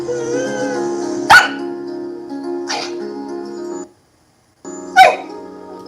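A dog gives three sharp, loud barks spread over several seconds, set against a sustained musical backing that briefly drops to silence.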